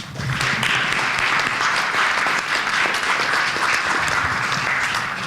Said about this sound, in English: a round of applause for our new security leaders